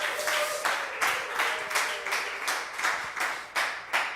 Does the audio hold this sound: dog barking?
no